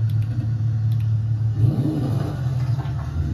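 A car engine revs in a racing video game driven with a realistic steering wheel controller, a steady low rumble with a rising whir of acceleration partway through, continuous and fairly loud with no talk.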